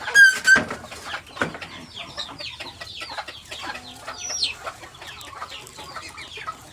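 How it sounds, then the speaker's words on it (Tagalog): Chickens cluck and chirp around a provincial farmyard, many small overlapping calls at close and middle distance, with one brief loud squawk at the start. "Mga manok."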